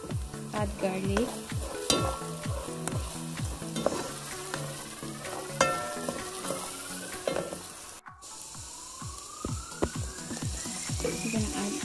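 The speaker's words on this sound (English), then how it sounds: "I'm frying the chicken" Steady sizzling and crackling of chicken frying in a pan, with occasional stirring clinks and scrapes throughout.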